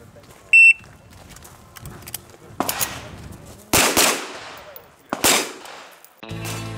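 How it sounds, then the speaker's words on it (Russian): Gunfire at a practical shooting competition: a short electronic beep, then several loud, sharp bursts of rapid shots with ringing decay between them, close by and alone. "мы не на боевых действиях, а на соревнованиях по практической стрельбе"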